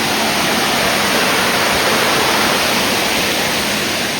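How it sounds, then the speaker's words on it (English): Waterfall pouring over mossy rocks near Roanoke and Salem, Virginia: a steady, loud, dense rush of broadband water noise that stays constant throughout with no breaks or talk. "And look, this waterfall."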